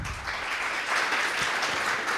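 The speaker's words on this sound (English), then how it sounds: "big round of applause to start with his presentation" Conference audience applause welcoming a presenter at a Python conference talk, a short burst of dense clapping from a room full of people, steady and moderately loud.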